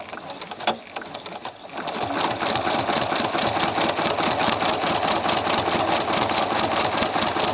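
A Janome sewing machine with a free motion couching foot stitching heavy thread or yarn, starting up after a moment and running in a fast, even mechanical rattle, close and loud.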